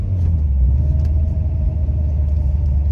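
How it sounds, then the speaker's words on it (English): Deep, steady engine rumble from an 870 whp Corvette with a manual gearbox as it rev-matches with the clutch pressed in, a continuous loud low drone with a faint rising tone through the middle. "you automatically just press in the clutch and it rev matches for you"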